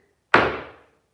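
Tap dance shoe landing on a small board: one sharp, close thud-tap with a short ringing decay, alone.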